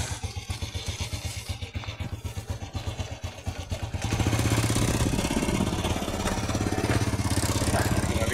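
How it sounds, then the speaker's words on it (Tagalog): A motorcycle hauling a heavy load of scrap, its engine chugging unevenly at first, then settling into a louder, steady labouring drone as it strains onward, close by. "Hirap yung motor natin mga kadyan. Mabigat ang karga."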